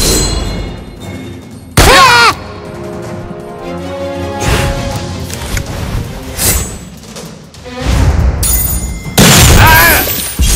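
Gunfire and explosions in the video game South Park: The Stick of Truth: loud bursts of shots and heavy booms come in several separate volleys, with quieter gaps between them.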